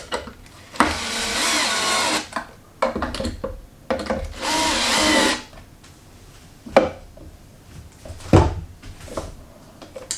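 A power drill drives screws into a model tank's frame, whirring in two long bursts of a few seconds each, with shorter clicks and knocks of handling between and after them, close and loud.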